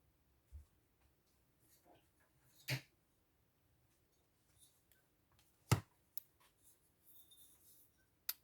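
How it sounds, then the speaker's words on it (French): Paper sliced with a craft knife guided by a ruler during card-making, heard as a few short, sharp scratchy strokes separated by quiet pauses, close and fairly faint. "je vais peut-être faire ça au cutter"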